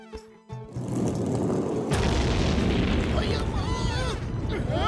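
Cartoon rockets roar off together and burst in a snowy park scene, starting with sharp pops then building into a loud sustained booming rush with whistling streaks near the end, voices briefly heard under it.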